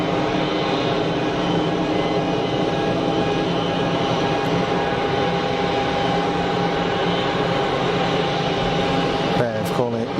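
An easyJet airliner on final approach at Geneva Airport, a steady distant jet roar and whine holding throughout, with a brief clatter of handling noise near the end.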